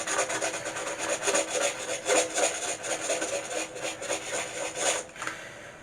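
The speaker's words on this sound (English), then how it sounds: "we are going to be sanding our storyboard tumbler" A storyboard tumbler is sanded by hand from the bottom up, giving a steady, close scratchy rubbing with repeated back-and-forth strokes that swell and fade for several seconds, with no talking.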